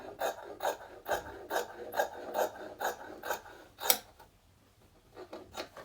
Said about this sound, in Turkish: Şurayı keseceğim arkadaşlar.